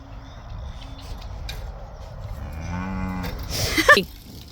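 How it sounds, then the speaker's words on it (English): Cows gathered at feeding time moo, one long loud low call swelling near the end over quieter farmyard background. "All the cows have arrived. They all want food."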